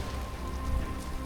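Hail falling outdoors on a mountain trail around Mont Blanc, a steady dense patter of small impacts hissing across surfaces, even and continuous with a low rumble underneath, no voices.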